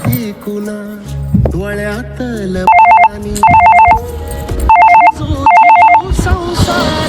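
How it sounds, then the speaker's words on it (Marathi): A phone ringtone trills in four bursts of repeated electronic tones between snatches of music-like sounds, loud and close. "मी माझ्या फोनवरून लावतो, माझ्या बाबांना फोन करतो मी"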